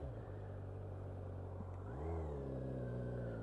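A car passes close by on the road, a steady engine rumble that swells and climbs in pitch as it accelerates away, heard alone with no talk.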